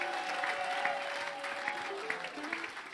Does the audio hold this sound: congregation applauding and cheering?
yes